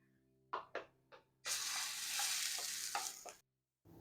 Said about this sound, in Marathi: आता मी हे आपले सगळे बॅटर यावर टाकते आहे